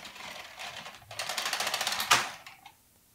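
A Bond knitting machine carriage is pushed across a row, giving a rapid run of clicking, rattling mechanical ticks that build up and end with a sharper clack before falling quiet.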